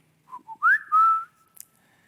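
A father whistles to his child: a few short notes, then a rising and a long falling tone, clear and close in a quiet room.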